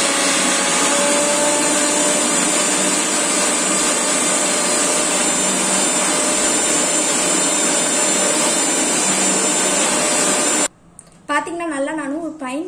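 A mixer grinder blends a fine curd paste for a green beauty cream, giving a loud, steady whirring roar that runs for about ten seconds and then cuts off, after which a voice speaks.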